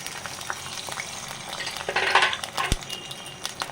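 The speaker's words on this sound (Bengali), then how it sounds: "তেলটা একটু গরম হলে এর মধ্যে দিয়ে দেব রসুন কুচিটা" Chopped garlic sizzles in hot oil in a pan, a steady close frying hiss broken by a few scraping stirs and one metallic clink.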